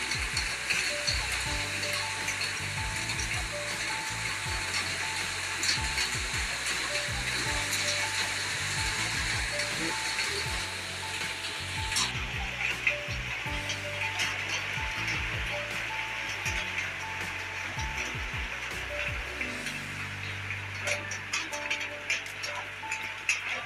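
Heavy monsoon rain pours at a jungle view restaurant, a dense unbroken roar of hiss and patter lasting throughout, with a low rumbling hum underneath.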